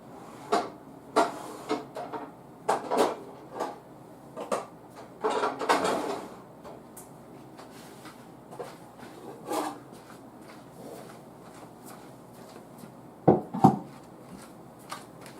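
Wooden cupboard doors and drawers knock and slide repeatedly, with bumps and clatters of loaf pans being moved around, close by and fairly loud.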